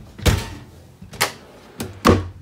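A large pots-and-pans drawer in the kitchen of a 2020 Grand Design Imagine 3250BH travel trailer slides and shuts four times in quick succession. Each movement ends in a close, solid thunk.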